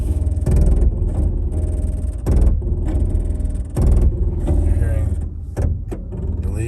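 A Lexus GX 460 creeping backwards under crawl control, with a steady loud cabin rumble and a repeating mechanical whirring and grinding from the system, pulsing in uneven bursts.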